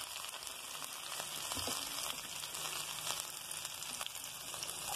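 Ginger, onion and green chili fry in a pan, giving a steady, close crackling sizzle with scattered pops that runs without pause, no voices over it.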